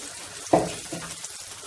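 A small splash of water poured into a hot pan of butter chicken, one short hissing burst that quickly fades into a low simmer.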